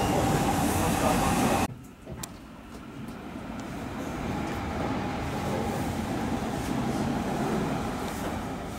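After a brief loud burst cuts off, an Odakyu 2000-series commuter train rumbles steadily as it pulls away from Izumi-Tamagawa station and gathers speed, with a continuous low mechanical hum.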